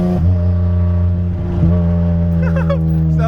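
Turbo Hyundai Tiburon engine running with the exhaust still off and an intercooler pipe missing, a loud close drone with a brief rev dip and rise; faint voices come in toward the end.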